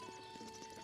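Horses at a stable in Breath of the Wild make quick, quiet clip-clopping hoof steps over a steady hum of background game music, with no talking.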